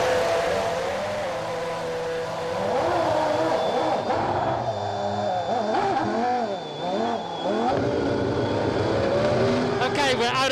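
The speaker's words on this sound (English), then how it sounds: "I'm going to set this car up now to understeer, take it out onto the track" A 2006 Formula 1 car, set up to understeer with some front wing removed, drives on track, its engine note rising and falling through gear changes and corners, loud and continuous throughout.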